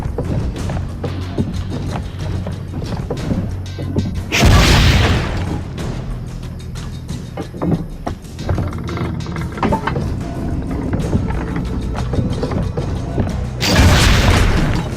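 Two loud, booming cannon blasts in Assassin's Creed Brotherhood, several seconds apart, each a heavy burst over a rumbling background.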